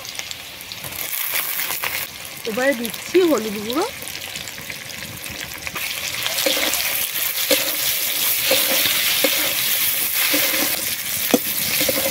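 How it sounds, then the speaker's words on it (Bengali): Steady sizzling and crackling of shrimp frying with onions in a hot pan, growing louder and denser partway through, with a voice speaking briefly near the start. "চিংড়িগুলো ভাজা হয়ে গেছে"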